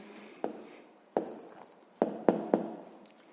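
A maths answer is written by hand as a series of short, close scratching strokes. Five or six distinct pen or chalk taps fall at uneven intervals in a quiet room.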